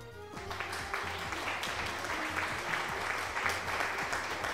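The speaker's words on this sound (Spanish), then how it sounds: "Muchos aplausos." Steady clapping and applause from the Pokémon Conquest video game fills the whole stretch, a dense crackling wash with no voices over it.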